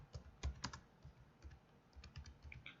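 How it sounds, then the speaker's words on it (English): Keys on a computer keyboard being typed in short irregular bursts, quiet and close, with a few sharper keystrokes standing out and no talking. "We will type wrong choice."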